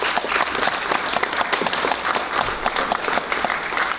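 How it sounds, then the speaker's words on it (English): An audience at a community gathering honoring two former scoutmasters breaks into steady, dense applause that carries on at an even level for the full stretch, with no voices rising above it. "Could you give them a round of applause,"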